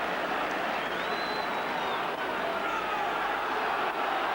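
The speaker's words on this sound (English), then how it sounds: "Crowd urging Great Britain on." A stadium crowd roars on Great Britain at a 1980 rugby league test match against New Zealand, a steady, distant wash of cheering that holds throughout with no clear peaks.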